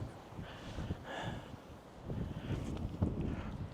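Wind blowing across an outdoor camera microphone: a steady low buffeting rumble with gusty surges that grow stronger toward the end.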